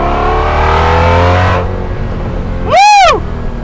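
A Ford GT40 race car, chassis P1075, with its engine roaring loudly and steadily up close, then easing off before a brief sharp rise and fall in pitch as it revs again.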